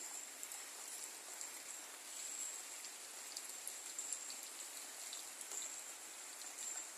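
Rain falling on a rainy village morning, a faint, steady hiss of drops with soft scattered patters spread evenly throughout, distant and even, with no talk.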